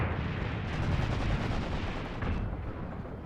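In Graviteam Tactics, a gunfire exchange rolls on continuously as a dense, loud rattle of shots and heavier booms, with the overlapping firing fading slightly near the end.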